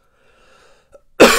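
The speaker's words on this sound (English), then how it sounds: "I still have that cough, as you saw, because, you know, sore throat," A single harsh cough from a person with a common cold and sore throat bursts out loudly at the end, after near silence with faint background murmur.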